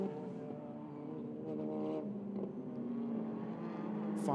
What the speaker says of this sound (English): As our race leader comes through the complex towards the start-finish straight